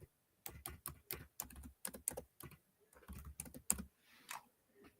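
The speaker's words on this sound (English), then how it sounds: "Typing it in, sharewellnow.com." Bursts of keystrokes clatter on a computer keyboard, close and crisp, in quick runs separated by short pauses.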